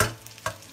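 Eggplant sizzling in a wok with oyster sauce and sugar, a short burst of frying hiss with a couple of quick spatula scrapes and no voices.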